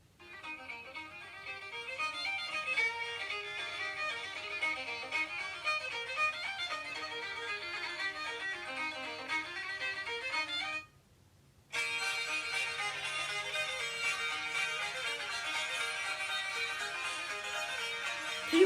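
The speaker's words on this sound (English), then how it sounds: "So I'm going to play you a little sample of some Celtic music" A short sample of lively Celtic music with a steady, bright melodic line that plays loudly, breaks off for a moment of near silence, then picks up again at full volume.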